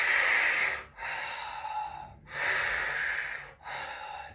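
Deep, audible breaths drawn in and pushed out through the mouth during a rib-cage opening stretch, two full breath cycles with loud airy inhales and exhales separated by brief pauses, close and alone.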